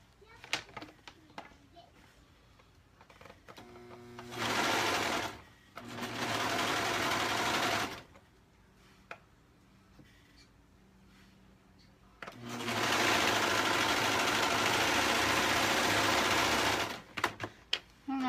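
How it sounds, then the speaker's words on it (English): A serger overlock machine runs in two long, steady, loud bursts while stitching fabric dress straps, with quiet pauses and light handling noises between the runs. "And I'm using my serger on it."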